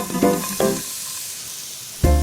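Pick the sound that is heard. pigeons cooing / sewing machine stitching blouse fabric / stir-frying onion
stir-frying onion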